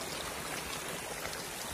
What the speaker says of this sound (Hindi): रोड टू रोड ये पानी आ रहा है नीचे.